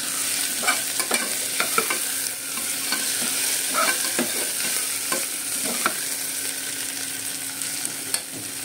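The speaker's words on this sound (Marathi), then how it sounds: "टमाटा, शेंगदाणे सगळं टाकून घ्यायचं व्यवस्थित आणि मग कळसून थोडं सोनेरी चांगलं कळसून" Tomatoes and peanuts frying with potato and onion for Khandeshi khichdi, a steady close sizzle with repeated scraping and stirring clicks of a spoon against the pan.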